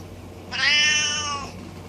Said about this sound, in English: You know, I also have the ability to understand cats.